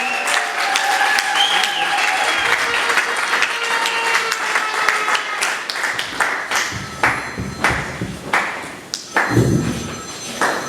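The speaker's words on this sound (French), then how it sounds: "Sous vos applaudissements" A crowd applauding at a brevet ceremony for a trained brigade in Kinshasa, loud and sustained at first, then breaking into scattered claps and thumps as it thins out.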